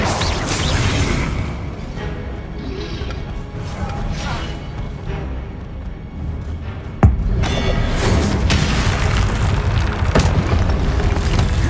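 Confringo fire-blast spell in Hogwarts Legacy, giving a loud, continuous rumbling barrage of booms with one sharp crack partway through.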